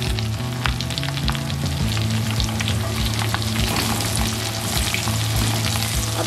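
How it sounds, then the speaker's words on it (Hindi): Chopped onions and capsicum fry with garlic and ginger in a pan, a dense, continuous sizzle with crackling pops and occasional stirring knocks, close and steady throughout. "लहसुन अदरक मैं फ्राई कर चुकी हूँ, और अब इसमें मैं ऐड कर दूँगी 2 मीडियम साइज के प्याज और 2 मीडियम साइज शिमला मिर्च चॉप किए हुए"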